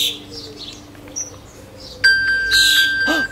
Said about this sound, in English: It can ring and tell me where my phone is